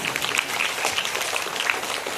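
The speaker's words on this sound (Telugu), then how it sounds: "ఒక్కసారి గట్టిగా మీ తల్లిదండ్రులకి చప్పట్లు కొట్టండి ప్లీజ్" Audience clapping for their parents at an inspirational speaking event, a dense, steady burst of applause from a crowd that holds evenly throughout with no voices over it.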